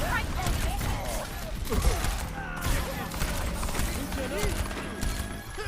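Rapid gunfire bursts in the team shooter Overwatch during an objective push, crackling shots layered with game effects and background chatter, moderately loud and continuous.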